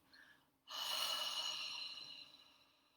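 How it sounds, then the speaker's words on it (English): Deep exhale breathed out through the mouth during a guided yoga nidra relaxation, a soft airy rush starting after a short quiet pause and slowly fading over a couple of seconds, close and alone. "breathing out through the mouth"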